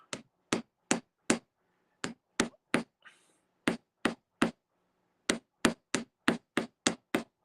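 A chewed-up, messed-up hammer strikes copper to texture it. The blows land as sharp, ringing metallic hits in steady runs, with short pauses between the groups.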